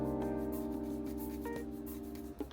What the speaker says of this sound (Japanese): 平らなヤスリとかでね、ひたすら綺麗になるまで磨きます